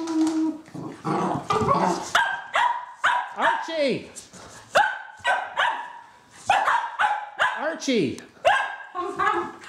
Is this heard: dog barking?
yes